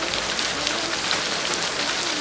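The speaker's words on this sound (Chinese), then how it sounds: "It's raining." Heavy rain pouring down outside a restaurant near a street intersection in a film, a dense, continuous hiss that stays close and loud throughout with no talk.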